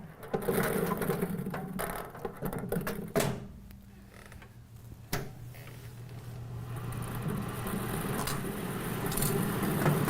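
A bingo ball machine runs as it is loaded for a full card game, giving a continuous mechanical rattling and whirring with creaky clatters and a few sharper knocks, steady and fairly close with no talk.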